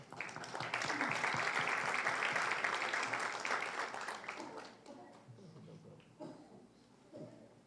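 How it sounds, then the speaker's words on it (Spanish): An audience at a legal lecture applauds to welcome a speaker, dense sustained clapping that swells for about four seconds and then fades out, leaving quiet room sound and a few faint voices. "a la doctora Claudia Fiorella Félix Pacheco, a quien recibimos con un fuerte aplauso, por favor."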